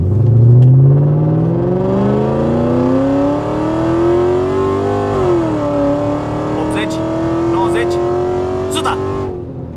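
A BMW accelerates hard through a 0-100 km/h run, its engine note climbing steadily, dipping briefly at a gear change, then rising again, loud and close from start to finish.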